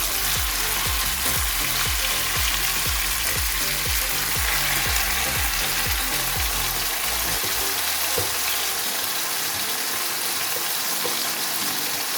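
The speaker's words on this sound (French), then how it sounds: "On vient les mettre dans l'huile." Onions dropped into hot oil for poulet yassa fry with a loud, dense, continuous sizzle, steady throughout with low rhythmic thumps underneath that fade near the end, close by with no talking.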